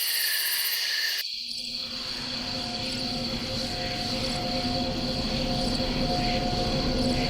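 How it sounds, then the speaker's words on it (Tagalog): Night insects and animal calls fill a dark forest, a steady dense chorus of high chirping with sustained tonal buzzing, continuous and fairly loud throughout after a brief shift at the start. "narinig nila ang mga huni ng mga hayop na tila nagbabala sa kanilang pagpasok sa madilim na"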